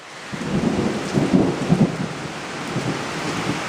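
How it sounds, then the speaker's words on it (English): Heavy rain falls outside with deep rolling thunder, a steady wash of rain under low rumbling that swells in the middle and then settles. "I'm really glad the rain waited until I got home."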